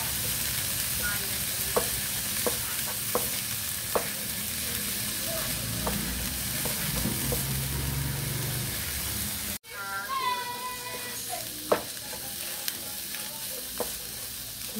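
A cabbage mixture for siomai rice sizzles steadily in a pan while it is stirred, with a continuous close frying hiss, scraping knocks from the utensil, and a brief break partway through.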